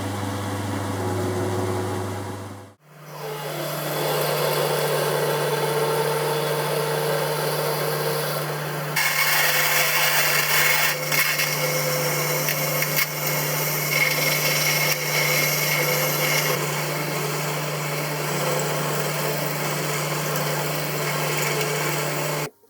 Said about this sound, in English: the next job is to drill in the end of the bar to hold the seal and the bearings